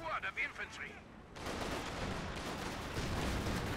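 Vickers machine gun fire in the World War II strategy game Company of Heroes 2, heard as a dense, continuous roar of rapid shots after a brief lead-in of other battle sounds, loud and sustained.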